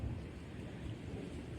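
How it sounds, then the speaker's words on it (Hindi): Thunder rumbles low and steady through a night storm, a faint continuous roll with wind in the background and nobody speaking. "जिस हिसाब से गरज रहा है"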